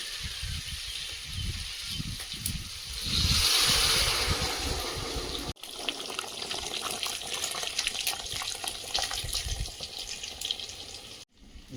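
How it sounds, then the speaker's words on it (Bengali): Hot water heated in an electric kettle pours into a pot of cooking food, a steady rushing splash that swells midway and runs on with a bubbling hiss. "গরম জল দেবো ইলেকট্রিক কেন্দ্রিতে গরম করে নিয়েছি এবার জল দিয়ে দেবো গরম জল"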